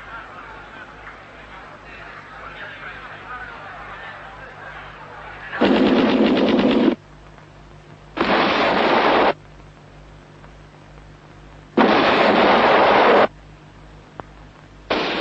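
Machine gun fire from the film Operacion Masacre, in three loud rattling bursts of about one to one and a half seconds each, separated by quieter stretches of low background noise.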